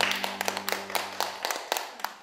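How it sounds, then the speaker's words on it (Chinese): A small group indoors claps briefly at a wellness class for older adults. The claps are scattered and uneven over a low steady hum. "掌声。"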